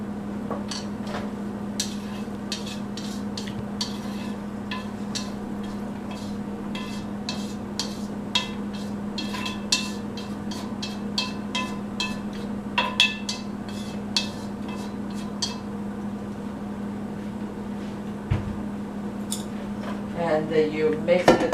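Egg being mixed into pork filling for garlic chive dumplings in a bowl, a long stretch of rapid clinks and scrapes of utensil against the bowl over a constant low hum, growing busier toward the end.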